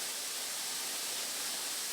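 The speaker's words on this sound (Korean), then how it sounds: "말로만 듣던 월광폭포다." Wolgwang waterfall roaring steadily as water plunges down after rain, a dense, even broadband rush that stays constant throughout without pause or voices.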